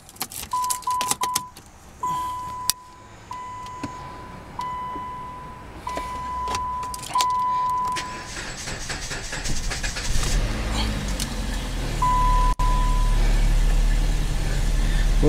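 A 2014 car's engine turns over after a jump start and settles into a steady idle, a low rumble building in the second half, preceded by chimes, clicks and key jangles nearby.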